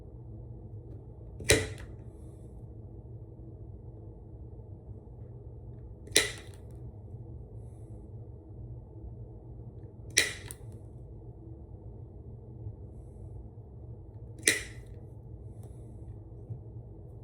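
A rivet setter is struck on a rivet in leather during the build of a rustic stitched leather pipe rocker, giving four sharp, separate hammer taps seconds apart over a quiet low room hum.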